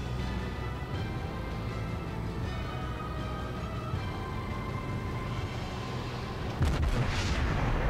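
Warship guns firing in the naval video game with the USS Pensacola, heard as a low rumbling battle bed with a heavy boom near the end.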